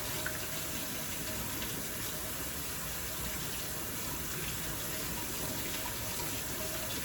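Tap water runs in a steady, continuous stream while LECA clay balls are rinsed, close by and unbroken for the whole stretch with no talking.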